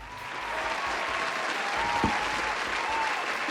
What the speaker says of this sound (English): Can you guys stop it with the clapping sound effects?